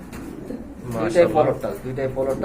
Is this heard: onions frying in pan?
no